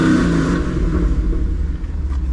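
A 2015 Camaro SS fitted with Kooks headers and aftermarket mufflers idles on a cold start, a loud, steady, deep burbling rumble close by with a slight waver and no voices.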